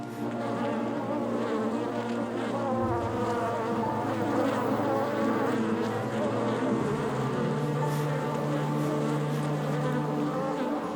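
Dense, steady buzzing of many bees swarming around wooden beehives on a fence line in Gorongosa National Park, Mozambique, a continuous close drone with no talking.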